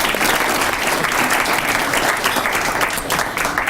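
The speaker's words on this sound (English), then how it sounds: "So a round of applause to them as well." Steady, dense applause from a breakfast crowd at a student-of-the-month event, loud and sustained throughout with no pauses.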